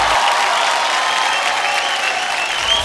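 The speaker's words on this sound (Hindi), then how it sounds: "राधा जी बहुत बहुत तालियों के साथ हम इनका स्वागत करते हैं, इस्तकबाल करते हैं।" Audience applause welcoming a guest on a Bhojpuri dance competition show, a steady, dense wash of clapping that fills the whole stretch at even loudness with no voices over it.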